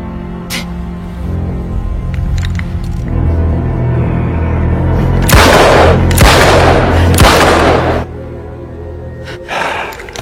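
Gunshots in an action film scene, a few sharp loud bursts in quick succession after a tense stretch of background music and ambience, with a fainter crack near the end.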